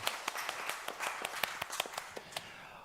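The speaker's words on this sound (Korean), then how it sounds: "하나님께 영광의 박수 올려드리겠습니다" A church congregation claps in praise during a Sunday service, a quick run of sharp separate hand claps over about three seconds, moderately distant and fairly quiet, with no talking.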